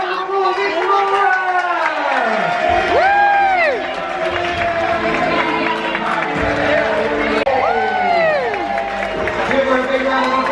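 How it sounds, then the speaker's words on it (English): Cruise ship audience on the MSC Virtuosa cheering, whooping and applauding a quiz winner, a loud, dense crowd roar with rising shouts and chatter throughout. "Give her a big round of applause, she is tonight's winner."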